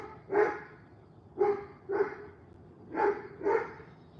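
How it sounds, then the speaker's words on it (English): A dog barks five times in short spaced bursts, fairly close and loud, with no talking over it. "See if that dog will shut the heck up."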